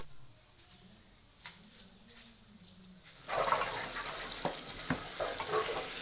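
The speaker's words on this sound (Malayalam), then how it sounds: "നമ്മൾ നുറുക്കി അരിഞ്ഞ് വെച്ചിട്ട് ക്യാരറ്റ് നമ്മൾ ഇതേപോലെ ഇടുക" Chopped carrot drops into a hot pan for a jackfruit seed stew, a quiet background giving way to a sudden loud, steady sizzle that continues up close with faint clinks.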